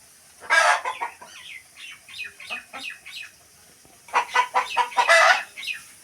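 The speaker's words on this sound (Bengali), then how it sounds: "আমার 20 ডিমের মুরগি রয়েছে।" Chickens cluck in a backyard flock of about twenty laying hens, in two bursts of loud, close, repeated clucks and squawks with a few crow-like calls, separated by a quieter stretch.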